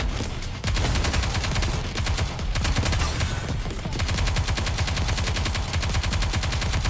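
Rapid automatic gunfire from the video game Nikke, dense sustained bursts of shots rattling almost without pause, loud and close, with a short break near the start before the firing resumes.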